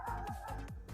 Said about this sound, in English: I'm guessing the mailman's here and the dogs see the mailman